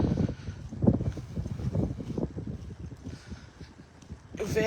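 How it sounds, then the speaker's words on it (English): Strong wind buffets the microphone with low, rumbling gusts that rise and fall, swelling louder at the end. "it's really, really windy."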